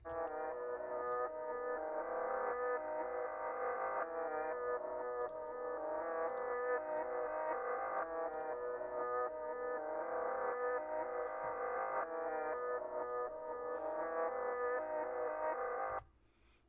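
A looping melodic music phrase, reversed and run through a filter, with a hazy, filtered, washed-out tone repeats in steady cycles, then cuts off abruptly near the end.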